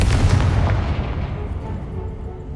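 A booming blast from the Confringo spell in Hogwarts Legacy, one loud deep explosion right at the start that rumbles and fades out over a couple of seconds.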